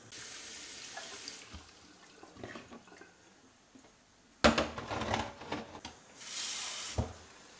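Water is poured into a jar packed with cucumbers for cold, vinegar-free barrel-style salting. Soft trickles come first, then a louder, splashing pour up close that tapers off and briefly returns.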